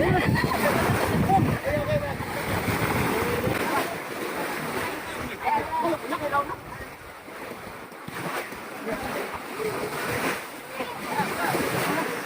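A boat moving on open water with continuous rushing waves and wind buffeting the microphone, voices talking over the wash.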